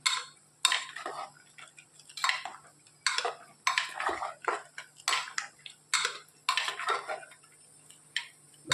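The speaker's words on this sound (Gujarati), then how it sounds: "સરસ હલાવી લઈએ એટલે થોડું બધું છૂટું થઈ જાય" Pieces of roti and dhokli are stirred with oil in a metal cooking pot. A spoon scrapes and clinks against the pot in a steady, close rhythm of strokes about every half second to second.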